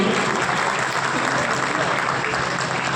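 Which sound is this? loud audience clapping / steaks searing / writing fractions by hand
loud audience clapping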